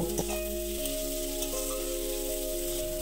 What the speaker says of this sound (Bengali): পেঁয়াজ কুচিটা দিয়ে 2 থেকে 3 মিনিট তেলের সাথে আমি হালকা লাল লাল করে ভেজে নেব।